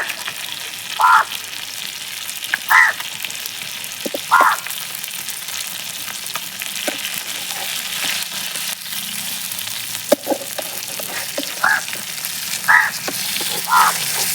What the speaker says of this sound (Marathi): आता दुसऱ्या बाजूने मासे चांगले तळलेले आहेत